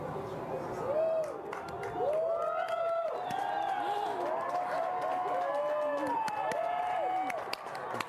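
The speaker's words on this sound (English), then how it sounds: "Everyone is cheering." Crowd gathered to watch a solar eclipse cheers and whoops continuously, with scattered clapping and excited voices rising and falling in a sustained, fairly loud wash.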